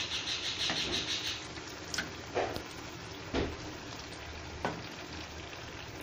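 Potato bajji fry in hot oil, making a low, steady bubbling sizzle with a few sharper clicks from the pan as the fritters are turned.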